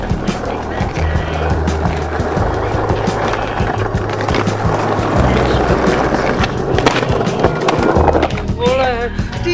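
A skateboard rolls steadily with a loud, continuous wheel rumble and clattering bumps close by, while voices talk and shout over it.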